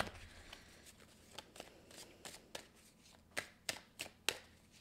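Mystic Moon oracle cards are shuffled by hand, giving a quiet series of crisp riffling and slapping bursts in an uneven rhythm, close up and with no talking.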